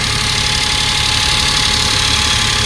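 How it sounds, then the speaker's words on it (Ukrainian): A three-cylinder car engine idles roughly and unevenly, misfiring with a steady shaking vibration, loud and close, running continuously with no voices. "він трьохциліндровий, тому зрозуміло, чого він троїть"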